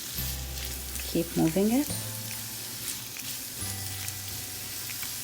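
A pan sizzles over medium heat as ingredients for mujadara cook toward golden brown, a soft steady crackle with a brief spoken phrase partway through.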